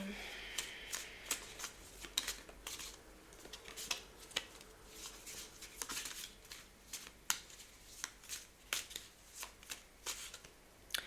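A deck of Osho Zen oracle cards is shuffled up close in a quiet room, with continuous papery riffling and sharp card slaps repeating in bursts over about eleven seconds.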